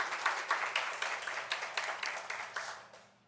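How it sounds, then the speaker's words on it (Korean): A congregation applauds during a Sunday church service, a faint, even round of clapping with rhythmic peaks that fades away over a few seconds. "우리 하나님께 영광의 박수 올려드리겠습니다"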